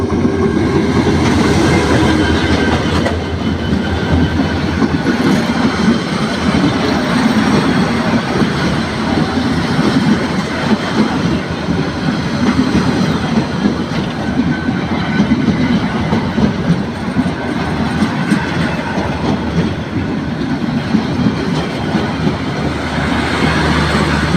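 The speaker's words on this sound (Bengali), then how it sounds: "বাংলাদেশ রেলওয়ের বিশেষ একটি ট্রেন এটি লাকসাম জংশন অতিক্রম করে চট্টগ্রামের উদ্দেশ্যে যাচ্ছে" A special Bangladesh Railway train passes Laksam Junction heading for Chittagong, its steady loud rumble and clickety-clack of wheels on rails continuing unbroken and close for the whole span.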